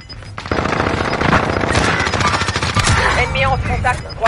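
Rapid automatic gunfire in the Warzone video game on PS5, dense bursts of loud shots running almost continuously, with faint voices talking underneath.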